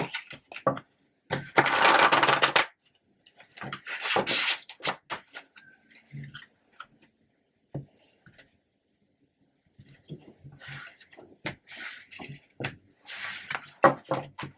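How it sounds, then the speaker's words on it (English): A new oracle card deck riffles and snaps in several shuffling bursts with pauses between, close up, one long rapid flutter near the start and no speech. "And this is my first shuffle of this deck."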